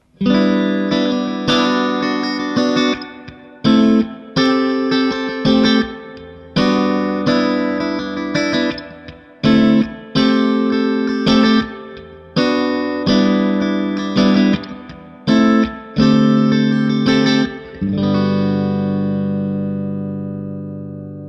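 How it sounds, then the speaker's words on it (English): A clean electric guitar plays strummed chords and picked notes through a Mesa/Boogie Electra Dyne 1x12 combo amp on the clean channel, reverb at about halfway, with noticeable reverb tails, ending on a ringing chord that slowly fades. "here's the reverb turned up to around halfway on the clean channel"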